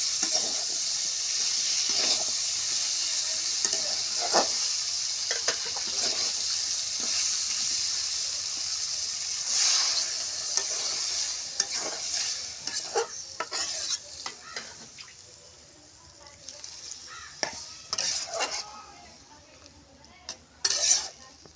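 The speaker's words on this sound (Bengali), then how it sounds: "সঙ্গে সিমটা আমি কষে নিচ্ছি।" Steady sizzling of flat beans frying with turmeric and cumin in a pan, with a spoon repeatedly scraping and stirring against the metal, growing more clattery toward the end.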